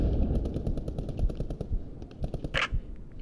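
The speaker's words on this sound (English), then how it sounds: "it's a machine gunner that's in one of those buildings, it's just lacing the whole area" Machine gun fire in the WWII shooter Post Scriptum, sustained rapid bursts rattling in a steady rhythm for about two and a half seconds, then a sharper crack and a few scattered shots.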